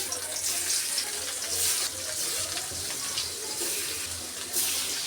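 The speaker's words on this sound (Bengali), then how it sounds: "মাছ ভাজার জন্য কড়াইতে তেল দিয়ে দেবো" Pieces of rohu fish fry in oil in a wok, producing a constant, bright sizzle and hiss that swells slightly at moments.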